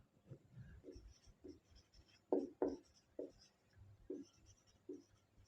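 Hand writing during an English lesson: quiet, uneven scratching and tapping strokes of pen on paper, with a few sharper, louder strokes near the middle and no talking.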